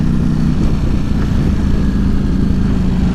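A 2018 Ducati Panigale V4S cruising in top gear at about 3,600 RPM, its engine a steady, loud, close drone with a low rumbling throb and no speech.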